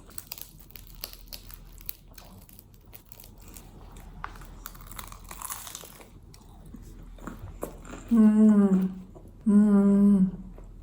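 Quiet crackly rustling, then two loud crunchy bites close to the microphone, each lasting about a second, biting into a crisp flaky croissant with chocolate outside and pistachio jam inside.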